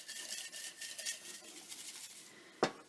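Paper name slips shaken and mixed in a bowl for a sweepstakes draw give a soft, continuous rustling and scratching, fairly quiet and steady, with one sharper tap near the end.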